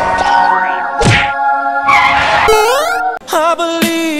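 A stickman ragdoll in a falling game takes a head hit, with sharp thunks and whacks between bursts of electronic tones and sweeping synthetic game effects.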